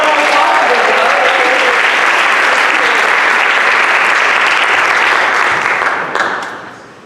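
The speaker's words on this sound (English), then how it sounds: "we'll give him a round of applause" Theatre audience at the Strand Theatre in Marietta applauds during a check ceremony, a loud, dense and sustained wash of clapping from a full house that holds steady before tapering off near the end.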